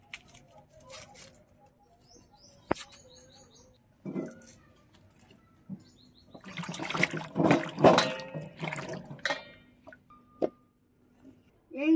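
Tomatoes being rinsed by hand in a kitchen, with irregular splashing and patter of water that builds to a busier burst in the middle and then thins out, near and moderately loud with no talking.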